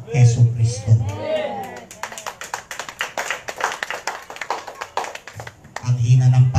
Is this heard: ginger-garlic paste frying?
no